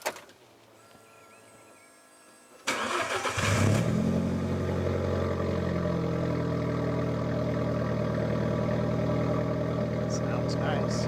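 An Alfa Romeo 4C small sports car cranks and its engine fires up loudly after a quiet moment, then settles into a strong, steady idle with light revving, close by and continuous.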